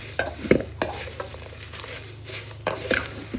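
Poha fries in oil with a close crackling sizzle, broken by sharp stirring clatters and spoon knocks against the pan, with no voices.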